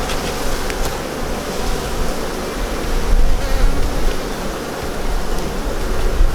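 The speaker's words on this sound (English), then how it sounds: "these bees are going to want to swarm with me now." Buckfast cross Welsh Black honey bees buzzing at an open hive during a June beekeeping inspection, a loud, dense, continuous hum of many bees close by with no voices.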